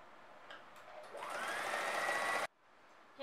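A sewing machine runs a straight seam attaching lace to the side edge of a wide dupatta, a steady close whirring burst of about a second and a half that stops abruptly, with no talking.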